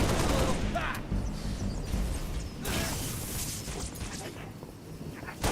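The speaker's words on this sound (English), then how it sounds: "They're shooting back!" Rapid gunfire in a sci-fi shooter video game, dense bursts of shots and mechanical clatter running continuously and loud, with a voice speaking briefly over it.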